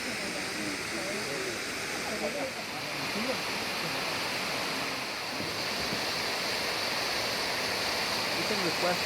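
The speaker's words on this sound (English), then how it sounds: "we're just watching the waterfall here go over Jump Off Falls as it heads down into the cove." Waterfall at Jump Off Falls pouring into a cave cove, a constant close rushing roar of falling water that fills the scene without pause.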